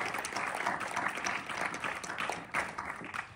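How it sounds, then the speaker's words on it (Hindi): Applause from an audience at a Republic Day gathering at a gurukul, steady broadband clapping held at a moderate level for the whole stretch with a faint murmur of voices underneath. "तालियां बजा करके बहुत बहुत स्वागत करें उनको"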